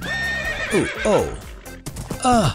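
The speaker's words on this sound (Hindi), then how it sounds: "मदद करो, इस घोड़े को मुझसे हटाओ।" Cartoon horse whinnying loudly several times, with drawn-out falling neighs and a scuffle of other voices and sounds between them.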